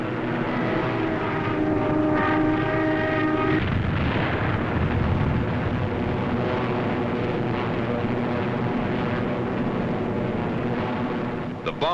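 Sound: WWII fighter aircraft flying, formation reforming and climbing

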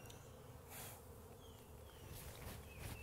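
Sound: honey bees coming out of the package into the hive

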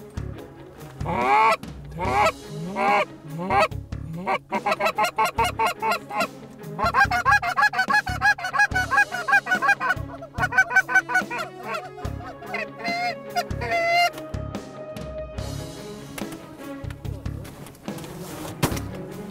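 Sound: geese honking coming into decoys

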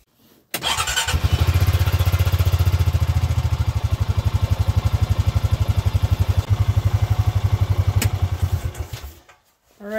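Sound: utility vehicle engine running

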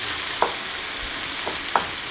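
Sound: zucchini frying and steaming in a pan

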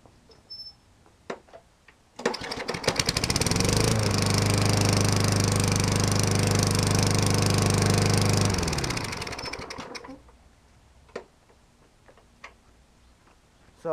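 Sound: lawn mower engine cold starting and running

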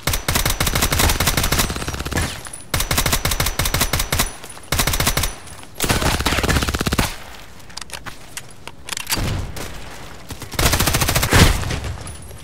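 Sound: pistol gunfire in the video game Contract Wars

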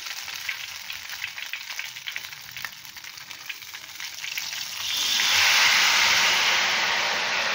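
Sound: ghevar batter frying in hot oil

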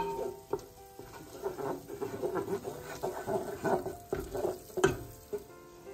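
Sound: stirring Ethiopian dish sizzling in a pan

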